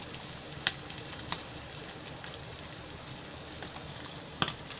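Catfish pieces coated in masala fry in a pan with a steady hissing sizzle, close and even, with a few sharp taps of a utensil against the pan.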